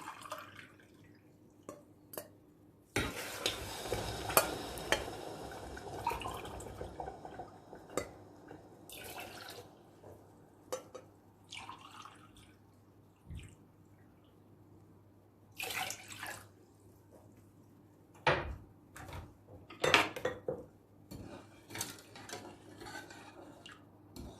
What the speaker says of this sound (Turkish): Şimdi 3 su bardağı da suyumuzu ilave edelim.